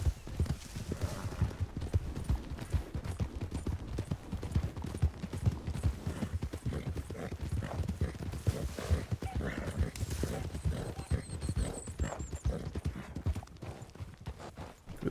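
Horse hooves clip-clop in a western video game, a quiet, steady run of rhythmic hoof strikes going on for the whole stretch, with a brief faint whinny and soft ambient background.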